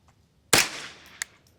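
A single sharp gunshot rings out at an outdoor shooting range, close and loud, with a decaying tail of echo and a faint metallic click shortly after.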